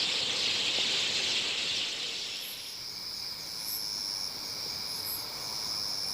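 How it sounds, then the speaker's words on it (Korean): Grass insects chirp in a golden autumn field near Busan, a steady high, shimmering trill with a few sharper repeated chirps, fairly soft and without voices. "풀벌레들이 우는 소리까지."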